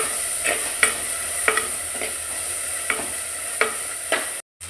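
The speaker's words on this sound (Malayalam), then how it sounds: "ഇനി നമുക്കതിലേക്ക് തക്കാളി ചേർക്കാവേ ഇനി തക്കാളി നല്ലോണം ഒന്ന് വഴങ്ങി" Tomatoes sauté in a pan while a fish curry is prepared, a soft sizzle under a constant high hiss, broken by a few spoon stirs scraping the pan at irregular intervals.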